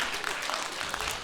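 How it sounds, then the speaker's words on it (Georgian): An audience claps briefly during a live comedy talk show, scattered applause sounding moderately soft with voices mixed in. "ტაში დავუკარეთ"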